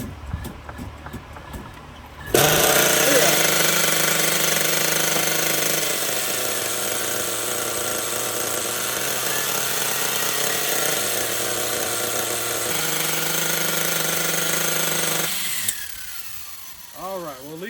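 A nitro engine on a 1/8 scale HPI RC buggy starts and idles, a loud, steady buzzing drone that holds for about thirteen seconds before cutting off, with quieter handling noises before and after.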